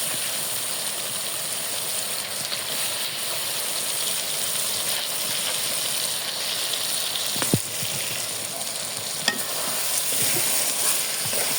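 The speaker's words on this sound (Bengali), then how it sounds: "মাছটা দিয়ে মাছের সাথে সবজিটাকে ভালো মতো একটু কষাই নেব" Singhi fish frying with potato and eggplant curry in a pan makes a loud, constant close sizzle, broken by a couple of sharp utensil knocks as it is stirred.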